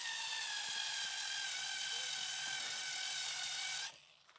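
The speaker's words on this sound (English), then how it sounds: "So I'm going to countersink these." Steady high-pitched whine of a drill countersinking holes in a gantry part, running continuously for nearly four seconds before cutting off abruptly into quiet.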